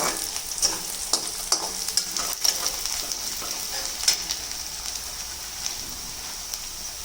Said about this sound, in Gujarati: હવે આપણી ડુંગળી સરસ સૂતરાઈ ગઈ છે, સરસ શેકાઈ ગઈ છે।